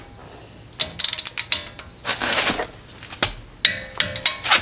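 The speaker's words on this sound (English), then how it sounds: "I'm going to zoom in real quick so you can watch me torque these" A hand torque wrench tightens lug nuts on wheel spacers of a 4th-gen Toyota 4Runner, making rapid ratcheting clicks in short bursts with pauses, close and fairly crisp.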